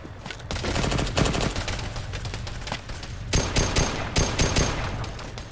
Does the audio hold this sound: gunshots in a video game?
yes